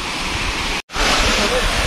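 Chirchiri Waterfall pours down with a loud, steady, close roar of rushing water that fills the whole scene, broken only by a brief cut near the middle.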